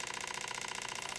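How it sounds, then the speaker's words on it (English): An electric motor on a no-drag generator spins fast, giving a close, steady, rapidly pulsing whir with no other sounds. "You can hear the speed of the motor speed up."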